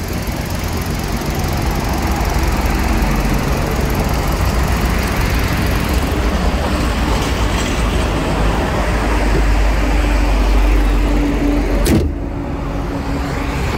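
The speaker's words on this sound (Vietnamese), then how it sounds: "Máy nổ rất là êm luôn." A car engine idling smoothly, close and continuous with a low steady rumble, the level staying even until a short click near the end.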